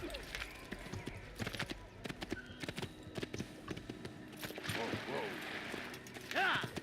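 Horse hooves clip-clop in the Assassin's Creed video game, a quick uneven trot that sounds close by, joined by faint mechanical rattles and a brief whinny toward the end.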